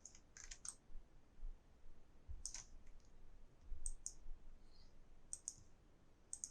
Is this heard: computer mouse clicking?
yes